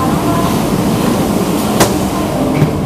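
The Argo Sindoro train stands at Semarang Tawang station, giving a loud, steady rumble with a single sharp metallic clank partway through.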